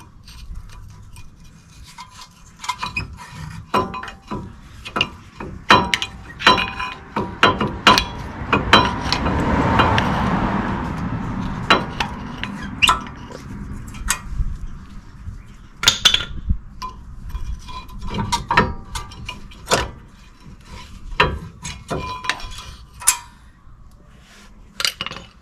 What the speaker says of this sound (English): Remove the pads.